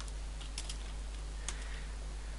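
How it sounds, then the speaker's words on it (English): Someone types code on a computer keyboard, a quick run of soft, light keystrokes with a few sharper clicks, close and faint over a steady low hum. "To do so, you just simply type this:"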